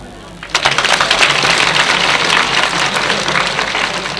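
Audience applauding after a stage magic trick in which a candle turns into a bouquet, a burst of many hands clapping that starts suddenly and stays dense and loud, with voices mixed in.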